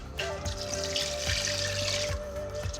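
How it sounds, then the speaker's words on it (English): Stock for vegan ramen pours into a pot on medium heat, a steady trickling splash lasting a few seconds with faint low thuds beneath. "Add the stock."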